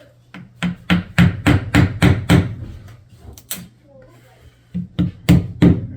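Hammer taps flattening glued pieces on a homemade wooden pet door, a quick run of about eight sharp knocks, a pause, then three more, close and loud.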